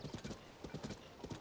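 Horse hooves clip-clop in a quick, even rhythm in Zelda: Tears of the Kingdom, a run of close, distinct beats with no talking over them.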